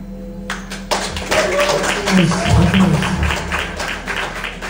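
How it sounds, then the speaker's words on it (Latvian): Audience applause at an open-mic storytelling evening: a steady patter of many hands clapping, fairly close and sustained across the whole moment, with a low hum underneath. "Vēlreiz aplausi."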